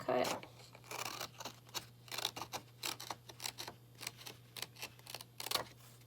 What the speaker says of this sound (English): Watching where the tip of my scissors are going.